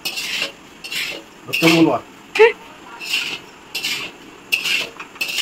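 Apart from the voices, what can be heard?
stirring and mixing rice for fried rice in a pot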